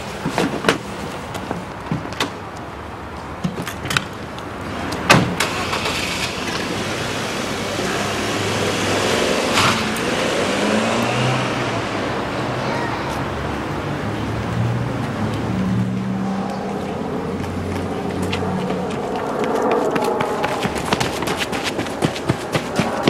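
A car drives round to the back of an alley, its engine a steady low rumble through the middle of the clip, with door-like clunks and scattered knocks at the start and end.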